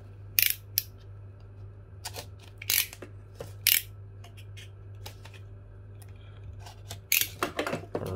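A Samsung Wireless Charger Trio box is unboxed, with packaging torn in a handful of sharp, close bursts of ripping and rustling separated by quiet pauses over a low steady hum.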